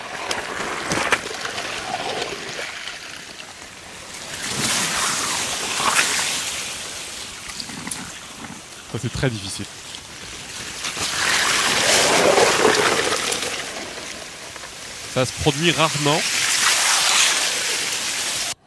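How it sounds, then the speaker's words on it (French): Ice on the frozen Loire river, shifting and grinding in broad washing surges that rise and fade like surf, with a few sharp creaks; a short bit of talk breaks in partway through. "on est sur des sons de glace de Loire gelée"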